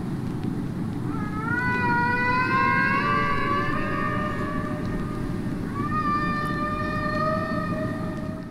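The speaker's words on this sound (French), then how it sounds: "dans ces quelques sons qui ont été sélectionnés, il y avait le chant de baleine à bosse" Recorded humpback whale song plays back as long, rising and wavering tonal calls, two drawn-out phrases over a steady low rumble, fairly loud and without speech.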